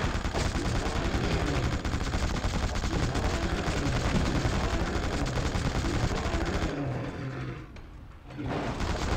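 Sustained, dense volley of gunfire from a firing squad in the horror video game The Suffering, loud and continuous for several seconds before briefly dropping away, then resuming.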